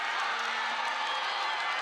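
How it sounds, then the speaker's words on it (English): A football crowd at a 2013 Queensland Brigade versus New South Wales Surge league game builds into a dense roar of cheering and whoops, loud and continuous with a voice faintly underneath. "You can start hearing the crowd getting into it."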